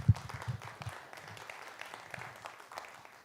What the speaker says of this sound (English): Give yourselves just a wonderful round of applause for valuing your health